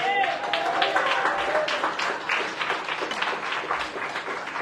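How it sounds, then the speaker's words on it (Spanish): A church congregation claps in praise at a revival crusade in New York, a steady patter of many hands sustained throughout, with voices and music mixed in beneath. "le damos más palmas de alabanza al Señor."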